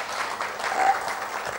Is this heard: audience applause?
yes